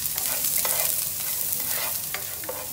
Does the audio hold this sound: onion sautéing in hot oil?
yes